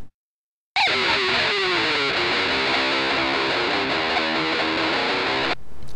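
Electric guitar played through a distortion pedal from the free Auraplug plugin, the cabinet emulator bypassed, gives a loud, saturated strummed chord and a bright sustained riff lasting about five seconds after a short silence.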